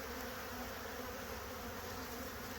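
Honey bees buzz in a dense, steady hum around a hive, close and continuous with no voices.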